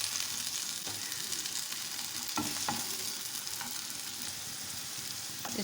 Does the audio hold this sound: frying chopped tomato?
yes